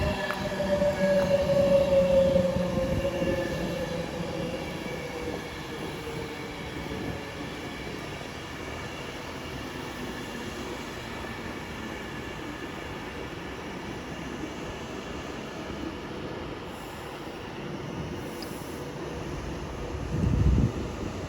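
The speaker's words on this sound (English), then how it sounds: "Soon to arriving now will be the 1215 Avanti West Coast service from London Euston to Liverpool Line Street in the form of" Avanti West Coast Class 390 electric train, unit 390137, pulling into Milton Keynes Central on the West Coast Main Line: a steady rolling rumble with faint wheel squeal that eases as it slows, then a brief louder knock near the end.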